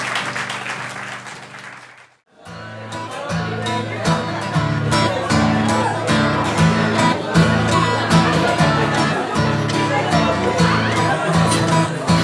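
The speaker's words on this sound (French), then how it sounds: "Applaudissons au Seigneur." Church congregation in Lille clapping together during a worship service, a short quiet pause giving way to loud, sustained rhythmic applause with music and a murmur of voices underneath.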